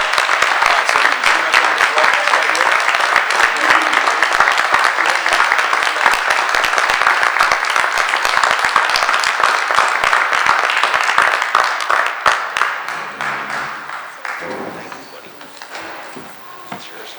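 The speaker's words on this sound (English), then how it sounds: "Please join me in a round of applause for Gabriel Lieberman" An audience at a school board of education meeting gives a sustained round of applause for an elementary school's student of the month, steady dense clapping for about twelve seconds before thinning out, with voices as it fades.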